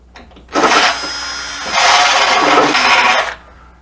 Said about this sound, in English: Got your handy dandy drill.